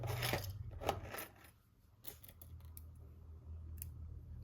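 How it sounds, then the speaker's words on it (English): Scissors snip crochet yarn close up and quietly, a few sharp metallic cuts with small handling clicks between them. "We're going to snip our color."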